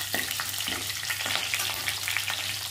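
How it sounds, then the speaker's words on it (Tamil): Small onions sauté in hot oil for a prawn curry, giving a close, continuous sizzle broken by repeated light scrapes and knocks of a spoon stirring in the pan; no one speaks. "இதில 10 சின்ன வெங்காயம் எடுத்துக்கேன் இத இது கூட சேர்த்துக்கோங்க நல்லா எண்ணெயில வெங்காயம் நல்லா வதங்கணும்"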